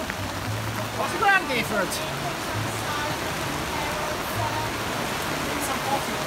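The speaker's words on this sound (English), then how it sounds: "And now we have rain, and lots of it." Heavy rain pours at an outdoor festival, a constant hiss and patter that runs beneath people talking and calling out nearby.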